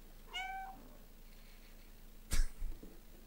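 A cat in the video game Stray gives one short, faint meow, followed by a sharp thud and some quiet shuffling noises.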